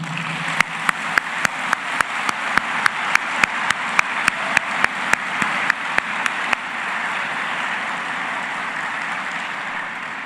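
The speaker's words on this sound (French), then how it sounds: "mérite d'être saluée par un tonnerre d'applaudissements" An audience applauds steadily at a university graduation ceremony in a large hall, forming a loud continuous wash of clapping with sharp spaced clicks in the first part, then a smoother roar.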